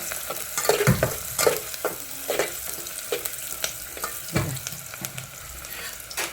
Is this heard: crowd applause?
no